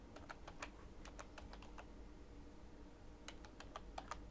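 Faint, close keystrokes on a computer keyboard spelling out a word, with two short runs of crisp clicks over a steady background hum and a pause between them.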